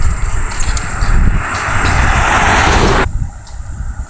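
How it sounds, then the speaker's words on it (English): Cicadas droning together in a loud, steady outdoor chorus on a short walk under tall trees, a dense buzzing wash that drops away sharply near the end. "I could hear the cicadas singing."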